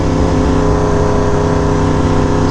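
A BMW motorcycle engine runs at low RPM, a loud, close, steady rumble with a dense, even tone and no revving across the short stretch.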